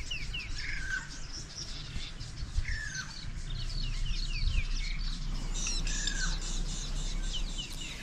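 Birds at a campsite in Satara, Kruger, call on a hot midday, giving repeated short chirps and whistled notes at moderate distance over faint low background rumble.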